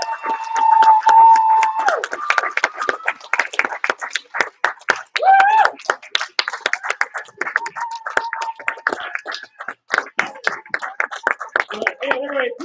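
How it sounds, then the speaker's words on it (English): A martial arts class gives a round of applause for a student earning his belt. Steady, dense clapping from a small group fills the room, with a few voices cheering over it. "let's give him a huge round of applause"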